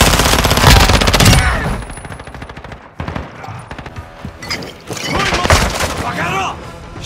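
Rapid automatic gunfire and heavy blasts in Call of Duty Modern Warfare 2, loud bursts of shooting in two waves with a lull between, voices speaking amid the combat.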